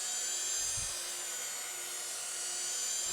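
A holly wood lidded vessel spinning on a lathe while its inside is sanded, a steady high-pitched whirring drone close by at constant loudness, with a brief low thump early on.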